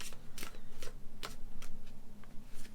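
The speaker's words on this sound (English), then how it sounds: "I have to shuffle once more." A deck of Lenormand fortune-telling cards being shuffled up close, a run of crisp riffling bursts and slaps in quick succession, loud and alone with no talk.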